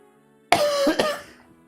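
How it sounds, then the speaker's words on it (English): A single harsh cough close to the mic, a burst followed by a second rougher catch, then quiet. "Again, I apologize for the coughing."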